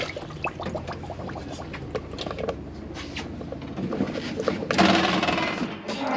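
Hot water runs from a tap into the sink of a Swift Sundance 600 motorhome, a close splashing flow that swells louder near the end, with a person speaking over it.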